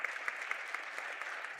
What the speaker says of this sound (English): let's give our 5th and 6th place finishers a big round of applause